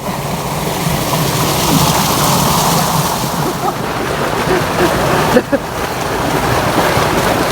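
Waterfall and flowing stream water deep in a jungle near the Vietnam border, a steady broadband rush filling the whole scene at close range, with a brief splash or knock partway through.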